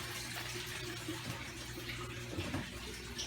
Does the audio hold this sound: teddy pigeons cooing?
no